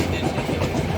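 A train rolling along the rails on the way to Satadhar station in Gujarat, a dense continuous rumble and clatter heard from on board, loud and steady throughout.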